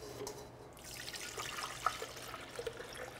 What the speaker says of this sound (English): pour that mixture in